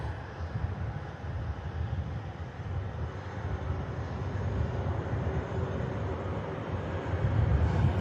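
Virgin Atlantic Airbus A330 departing Manchester Airport, a low, rumbling engine roar at a distance with some wind buffeting, steady and fairly faint before growing louder near the end.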